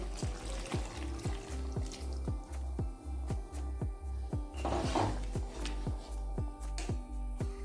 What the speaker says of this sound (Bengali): যে গামলাটায় মাংস ম্যারিনেট করেছিল সেটা ধুয়ে একটু জল দিয়ে দিচ্ছি